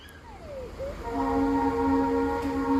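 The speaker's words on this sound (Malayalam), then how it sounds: "അതിലൂടെ ട്രെയിൻ പോകുന്ന ശബ്ദം കേൾക്കുന്നുണ്ട്" A train rumbles past at a distance near Hudsagar waterfall in Goa, a gliding whine settling into a sustained horn-like tone over the low roar.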